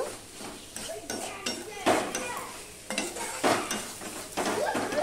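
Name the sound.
okra being stir-fried and mixed in pan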